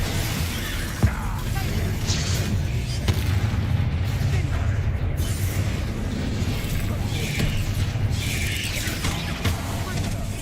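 The Bombarda explosion spell booms and shatters through dense combat in the video game Hogwarts Legacy, with a few sharper blasts rising from a constant loud wash of battle effects and a voice calling out.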